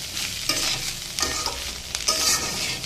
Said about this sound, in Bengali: পাঁচফোড়ন দিয়ে করলাটাকে ভেজে নিচ্ছি